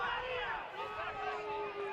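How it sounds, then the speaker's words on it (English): Rugby league crowd at a Kurri Kurri versus Macquarie match shouting and jeering at the referee, a steady loud roar of many voices with no clear gaps. "Crowd not happy at all with the referee today."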